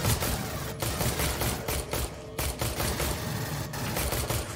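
Rapid gunfire from a player's weapon in the shooter Aliens: Colonial Marines, loud repeated shots in quick bursts with short gaps, steady and close, no talking.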